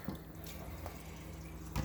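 Tap water runs into a sink to rinse cubes of brined venison, a steady splashing stream with a few louder spatters at the start and end.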